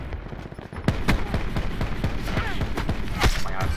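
Gunfire in Call of Duty Black Ops 4: scattered loud, close shots ring out in short irregular bursts with distinct sharp cracks, set over a busy game background.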